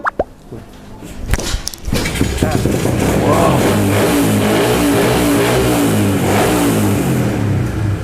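A carbureted motorcycle engine fitted with an aftermarket CDI box starts with a few sputters, then revs hard and holds a loud, steady high-rpm drone close by.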